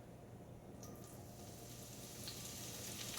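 Zucchini noodles frying in hot ghee give a soft, steady sizzle with a few faint crackles, growing slightly louder toward the end.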